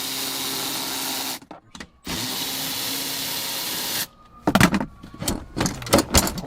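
A power driver loosens the 10 mm bolts on the jack bracket inside a GMC truck, with two long, loud, steady whirring runs separated by brief pauses, then a cluster of sharp metallic clinks and rattles.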